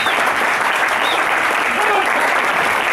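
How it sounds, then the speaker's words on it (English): A hall full of people gives Patsy, a junior cup team manager, a big round of applause, loud continuous clapping with a few scattered voices and whoops mixed in throughout. "So I'd ask to give Patsy a big round of applause."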